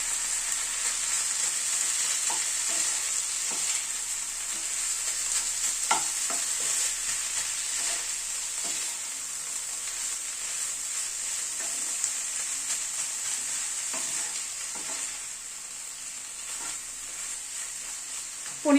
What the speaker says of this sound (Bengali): এখানে পনির 150 গ্রাম পনির আমি হাতে স্ম্যাশ করে নিয়েছি।